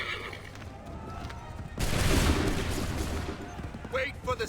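Musket volley fire in the Assassin's Creed III video game: a loud, dense burst of gunfire erupts about midway and rolls on as sustained crackling, with shouted voices before it and again near the end.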